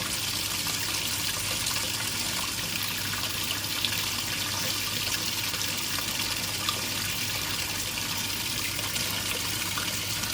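A Simpson Enduro 701 washing machine fills with water for a deep rinse on a normal warm wash, a loud, steady gushing rush of water with a constant low hum beneath, unchanging for the whole stretch.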